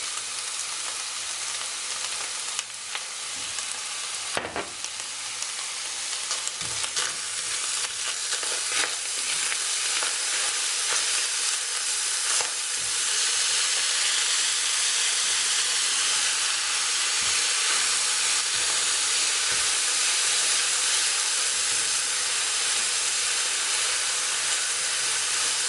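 Beef sizzles in olive oil in a hot pan as it is stirred, a loud, steady frying hiss that holds for the whole stretch with occasional scraping knocks and no talking.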